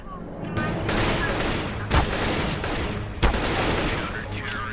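Rapid gunfire rattles in Counter-Strike: Global Offensive, with dense bursts of shots and a couple of heavier reports breaking through the continuous firing.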